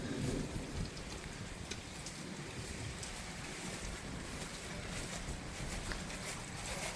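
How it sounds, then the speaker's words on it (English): Rainwater runs through an open French drain in a yard, a steady broadband rushing wash with some wind buffeting on the microphone and no talking. "You can hear the water running right through here."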